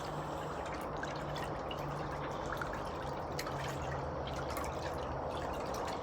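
A small mixing stick stirs water around a log in a mosquito-larvae container, giving a steady run of soft sloshing, dripping and trickling close up, with no talk.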